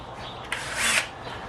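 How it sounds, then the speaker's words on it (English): Power drill fitted with a number 10 (3/16) bit boring bolt holes through a carbon fiber side skirt extension clamped to a BMW M3 F80, a short close whir that rises into a loud high grind before easing off. "I'm using a number 10 or 3/16 drill bit, and we will pop the holes through and bolt them on up."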